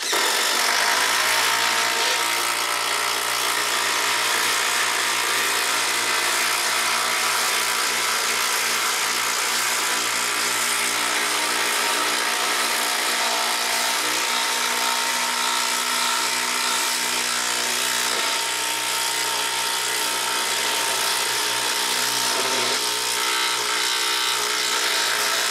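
DeWALT DCF787 and Makita XDT12Z cordless impact drivers run in a side-by-side test, giving a steady, loud, dense mechanical whir with continuous hammering texture throughout, without pauses or talk.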